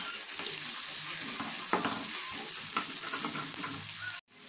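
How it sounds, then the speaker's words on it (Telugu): Moringa flowers and egg sizzle steadily as they fry in a little oil in a pan, with scattered scraping taps of stirring throughout, close and fairly loud, cutting off abruptly at the end. "సో ఇలా చేసుకుంటే మనకు ఆయిల్ తక్కువతోటి మనం ఫ్రై చేసేసుకోవచ్చు"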